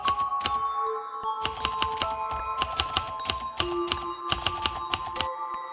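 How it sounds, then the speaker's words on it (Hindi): A cursed typewriter typing on its own clatters in rapid bursts of sharp keystrokes separated by short pauses. The keys are close and fairly loud, over a low steady hum, with no voices. "टाइपराइटर अपने आप चालू था और उस पर एक कहानी लिखी जा रही थी।"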